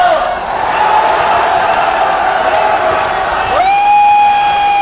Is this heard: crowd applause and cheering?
yes